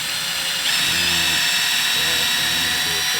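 Power drill driving through a practice bone block, a loud, continuous high whine that steps up in pitch partway through, with a voice speaking underneath.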